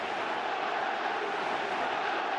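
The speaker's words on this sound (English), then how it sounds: "Listen to this crowd." A football stadium crowd roars for Barcelona in a friendly against Juventus, a dense, constant wall of noise with no break from start to finish.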